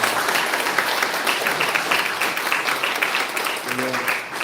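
Broad, steady congregation applause fills a church during a Sunday service baptism welcome, continuous and fairly loud throughout, with a brief voice emerging near the end.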